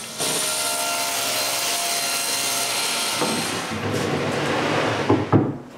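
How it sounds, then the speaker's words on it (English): Saw cutting off part of an oak-faced wooden kitchen cupboard shelf, a steady continuous rasping grind that runs for several seconds, close and loud, ending with a few knocks and clatters. "After protecting the varnish, I cut part of the shelf."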